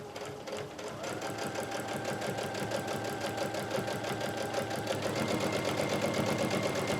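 Domestic sewing machine fitted with a dynamic walking foot runs steadily through a seam, a fast even whirring chatter that speeds up slightly near the end, close and alone with no talk.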